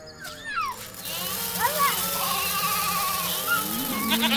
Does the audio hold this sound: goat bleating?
yes